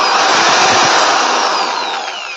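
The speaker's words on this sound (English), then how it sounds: "The drill keeps spinning when I hit this button." A power drill spins with its trigger held down, giving a loud, steady, high-pitched whirring buzz up close that holds for a couple of seconds and then fades slightly.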